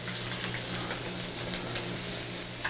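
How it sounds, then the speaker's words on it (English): Chicken seasoned with salt and pepper sizzles in olive oil in a hot frying pan, a steady close frying hiss running without pause throughout. "Okay, in the pan, frying pan we go."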